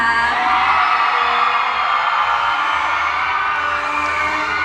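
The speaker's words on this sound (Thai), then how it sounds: "ขอเสียงกรี๊ดดังๆได้ไหมคะ" A large crowd at a beauty pageant final show screams and cheers loudly and continuously, high-pitched shrieks blending into a sustained roar.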